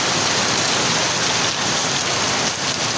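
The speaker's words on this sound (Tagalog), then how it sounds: "Yan umuulan oh." Steady rain pouring down in a sudden downpour, a dense even hiss of drops on surfaces, close and continuous without any talk.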